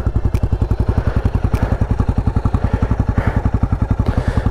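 A motorcycle engine thumps along a high mountain road at around 14,500 feet, a loud, close and very regular rapid pulsing beat that holds steady throughout.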